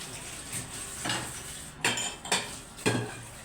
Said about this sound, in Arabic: اغسلي بقى مره واحده واشطفي على طول، ما تحسيش بغسيل المواعين